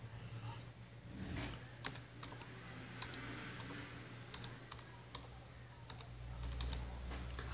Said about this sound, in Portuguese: Vou digitar aqui